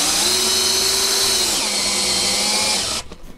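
A power drill drives a screw into wood while building an irrigation tray, the motor whining loud and steady for about three seconds, pitch dipping slightly under load, then stopping abruptly.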